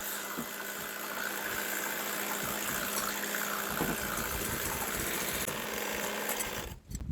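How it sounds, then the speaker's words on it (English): Fresh cream whipped to a foam with an electric whisk in a busy cake production kitchen, a steady, close motor whir that runs without a break and dips briefly near the end. "I will whisk it until the foam is out."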